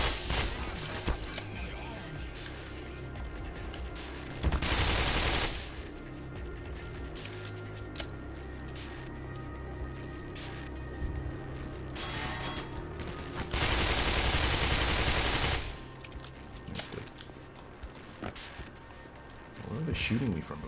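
Gunfire from enemies in Black Mesa Source, heard as bursts of rapid shots in two louder volleys over a busy game soundscape, with a player talking between them.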